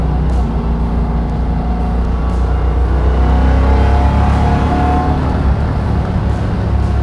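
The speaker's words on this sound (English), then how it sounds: "Definitely sounds like a Hellcat." A supercharged Hellcat engine swapped into a 1971 Plymouth Barracuda revs loudly and close, a continuous deep rumble rising and swelling with throttle over several seconds.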